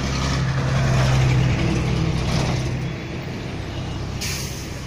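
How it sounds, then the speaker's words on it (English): Heavy trucks and cars rush past on a busy city ring road, a loud continuous roar of engines and tyres with a rumbling low drone that swells early and then eases, heard up close without talk. "So many trucks are there."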